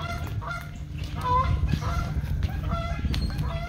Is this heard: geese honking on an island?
yes